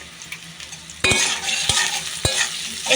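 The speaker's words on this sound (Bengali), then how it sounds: "সেদ্ধ আলুটা দিয়ে একটু ভেজে নিতে হবে" Boiled potatoes fry in hot salted oil, starting with a quiet hiss that jumps into a loud, dense sizzle as they go in, with a few sharp spoon-against-pan clanks close up.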